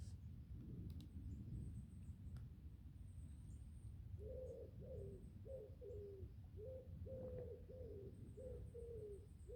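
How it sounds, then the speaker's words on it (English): Wood pigeons coo in Wyre Forest, a faint, distant series of soft repeated hoots in a rhythmic phrase over quiet woodland ambience, with no talking. "Just hear the wood pigeons in the background"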